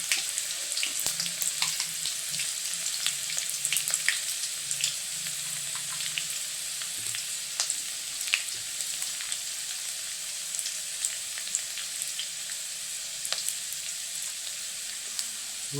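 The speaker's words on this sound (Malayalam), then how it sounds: "നമുക്ക് ചുമന്നുള്ളി ഇടാം. ഉണക്കമുളക്, ഉള്ളി മുരിയട്ടെ കേട്ടോ." Shallots and dried chillies frying in hot oil give off a steady, dense sizzle with scattered crackles and pops throughout, close and even in level, with no talking.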